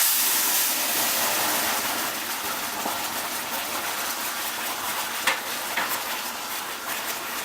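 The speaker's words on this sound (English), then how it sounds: "we want to let that simmer away there for about 5 to 10 minutes" Salsa simmering in a hot pan on a stove at medium-high heat, a continuous broadband sizzle and hiss with a few faint pops, close and steady with no talking.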